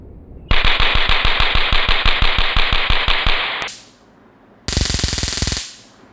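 Rapid crackling bursts from a handheld electric taser stun device, loud and close, a long rattling stretch of sharp clicks followed after a brief pause by a second shorter burst, with no talk.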